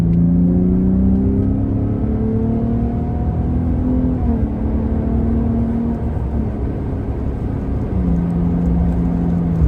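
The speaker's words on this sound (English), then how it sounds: "Let's see another acceleration test." A 2023 Ford F-150 Raptor pickup truck accelerating hard, its loud engine note rising steadily in pitch with gear shifts around the middle and near the end, a continuous roar close to the microphone with no talking.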